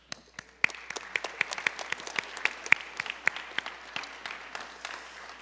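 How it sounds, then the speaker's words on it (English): Audience at a school promotion ceremony gives a scattered, fairly quiet round of applause, sparse distinct claps building slightly before thinning out. "So why don't you give them a hand of applause."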